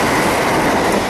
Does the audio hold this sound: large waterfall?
no